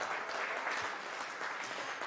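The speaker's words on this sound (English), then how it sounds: "big round of applause for Tom Fleming" Even, continuous applause for guitarist Tom Fleming at an Emancipation Day concert, a short steady patter of many hands at moderate volume.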